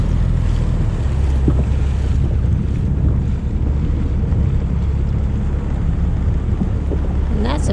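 A small dinghy motors across a harbor in St. Thomas near the fuel docks. Its outboard engine drones steadily under heavy wind buffeting and splashing water throughout.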